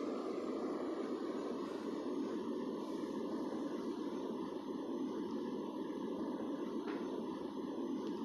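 An Airbus A380 landing in the Airline Commander flight game, with a loud, steady broadband jet engine roar that stays even and alone for the whole stretch.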